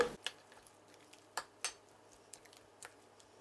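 A spoon stirs cabbage stuffing mixed with tomatoes in a bowl, giving faint, scattered clinks and scrapes at an uneven pace, close by with no talking.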